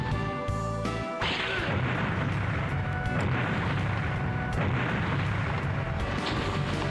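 Grenade blasts in the Vampire Hunter D video game, heavy booming explosions one after another with a dense rumbling roar that stays loud and continuous throughout.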